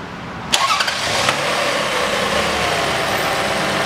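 A 2004 Toyota Harrier MCU30 is started while hot, with a short whir of the starter before the engine catches and settles into a steady, even idle, heard up close with no talking.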